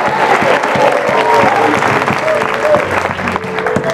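A church congregation applauds during a sermon, loud sustained clapping mixed with voices and crowd noise throughout.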